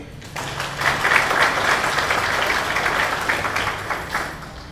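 An audience claps for the council at a municipal launch event in Dschang, a steady, full round of applause from a crowd in a hall, sustained and fairly loud.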